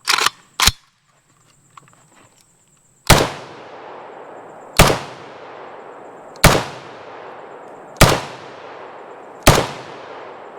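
An RPK74M light machine gun fires loud single shots outdoors, five sharp reports spaced about one and a half seconds apart, each trailing off with a rolling echo, after two quicker bangs at the start.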